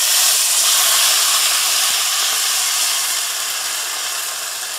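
Water poured into a very hot pan of toasted wheat bursts into a loud, steady steam hiss that fades slowly over several seconds, with no one speaking.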